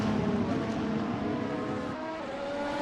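Race car engine in a racing video game at Suzuka, holding a steady, loud drone with a rising pitch line as the car powers out of a corner, continuous throughout with no talk.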